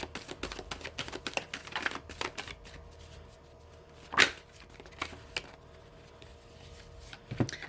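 Tarot cards being shuffled and drawn, soft papery riffles and light taps scattered irregularly, one sharper flick near the middle, quiet and close with no talking.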